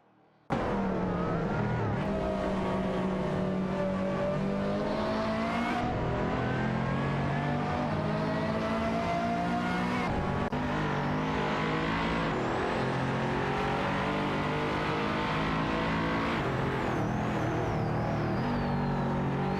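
Race cars in an AI racing video game, one of them a Pagani Huayra, roar continuously through a turn and onto a straight, with loud layered engine drones rising and falling in pitch as they jostle for position, no voices.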